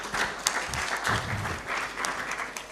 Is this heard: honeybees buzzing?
no